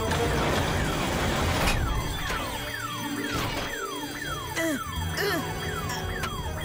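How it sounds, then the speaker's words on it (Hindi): A cartoon security alarm blares in an animated show, its repeating falling siren sweeps cycling steadily and loudly over a busy background, with a few sharp clanks mixed in. "लगता है अलार्म अब शुरू हो गया।"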